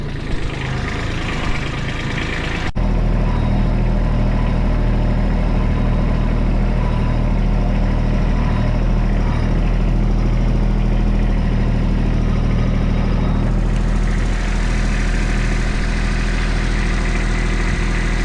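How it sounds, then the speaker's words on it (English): A steady, loud tractor engine idles and rumbles continuously, with a brief shift in tone near the start before settling into a constant drone. "Just the noise of the tractor is working pretty well here."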